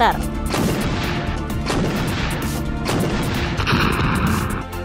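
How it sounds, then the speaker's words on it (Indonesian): An 88 mm anti-aircraft gun fires on a tank in battle, heavy booming shots roughly every second and a half, each blast loud and close with a rumbling, crashing tail. "Beberapa tank buatan Ceko dikirim ke depan untuk mengalihkan perhatian awak Soviet dengan serangan senjata AA-88 mm"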